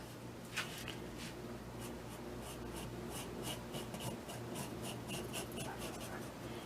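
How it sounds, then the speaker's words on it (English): Pencil sketching a mermaid bag pattern freehand on paper: a close, steady scratch of graphite strokes in quick repeated passes over a low background hum, with no talk. "Or you can simply do it freehand. Slowly sketching in."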